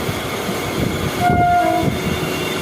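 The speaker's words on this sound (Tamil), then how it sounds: "என்ன ஹார்ன் வச்சுள்ள" A diesel locomotive horn, engine 30368, sounds one steady blast over the rumble and clatter of a passing train.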